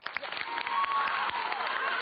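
An audience claps steadily in a hall, a dense, continuous wash of applause with a faint murmur of crowd voices beneath it.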